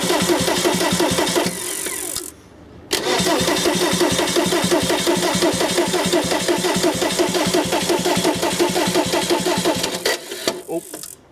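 A VW Camper's TDI diesel engine, newly swapped in, cranks briefly, pauses, then fires and runs loudly with a rough, rhythmic diesel clatter close up before cutting out near the end.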